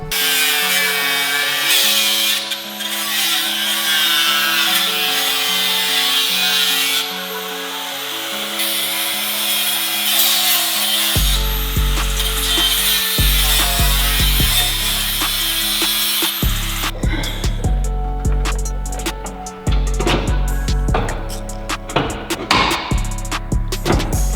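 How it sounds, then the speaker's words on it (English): A power cutting tool slices away metal parts on a Subaru WRX STI to make room for a front-mount intercooler, a loud, close, sustained grinding whine that shifts pitch and turns harsher partway through, with no talk. "So I need to go ahead and cut all of this off, not just the tabs."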